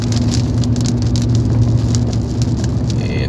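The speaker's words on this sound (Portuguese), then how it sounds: "Começa uma chuvinha a cair aqui." Light rain begins falling on a drive from Trevo de Santana toward Fazenda Nova, a steady close patter of drops over a constant low vehicle hum, with no speech.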